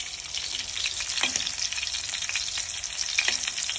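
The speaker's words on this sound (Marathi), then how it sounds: "आता मी बाकीचे प्रॉन्स पण टाकते फ्राय करण्यासाठी." Prawns frying in a hot pan, a loud, dense and continuous sizzle close by, broken by a couple of brief stirring scrapes and no voices.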